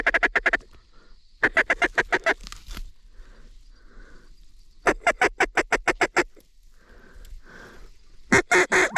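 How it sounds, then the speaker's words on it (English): Mallard ducks give rapid, loud runs of quacks in several bursts across a duck hunting spread, close by, with quiet gaps and a few faint murmurs between. "Oh, is this a black duck?"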